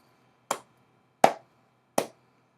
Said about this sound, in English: Yeah, sarcastic clapping